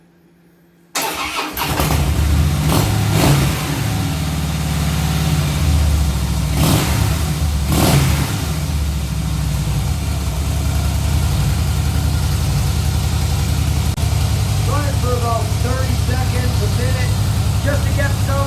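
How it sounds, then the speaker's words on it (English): A 2013 Harley-Davidson Softail FLS motorcycle engine starts abruptly after an oil change and settles into a loud, steady idle with a few brief revs early on, running close by throughout. "Now we're going to run the motor."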